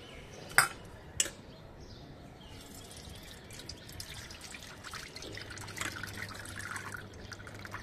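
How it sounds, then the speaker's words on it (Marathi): Soaked amla pieces are strained to draw off amla syrup: a faint, steady trickle with scattered drips, broken early on by two sharp clicks, quiet and close with no talking. "आता आपण काय करूया, हे गाळून घेऊया"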